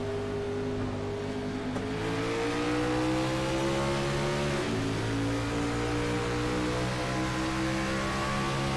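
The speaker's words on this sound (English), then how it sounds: "we're going to listen to these drivers get up through the gears" Race car engines in a racing video game rev and climb through the gears at Pocono, a steady loud drone with pitch rising and dropping at each shift, no talk over it.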